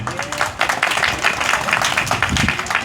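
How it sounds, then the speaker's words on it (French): Audience applause at a political gathering in Guinea's forest region: dense, steady clapping from a crowd, fairly loud and continuous throughout, with some voices mixed in. "veuillez applaudir un peu."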